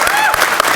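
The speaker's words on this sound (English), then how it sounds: "So I would actually like to have everybody applaud Jesse Noller again." Applause from a conference keynote audience, brief bursts of clapping heard under a fairly close voice, with a light crowd murmur.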